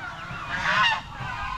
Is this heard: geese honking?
yes